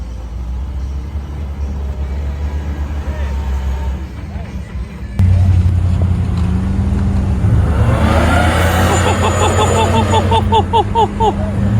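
A Jeep engine revs hard on an off-road course at a Jeepers Jamboree, a loud steady roar that surges louder halfway through and stays close, with shouting voices over it.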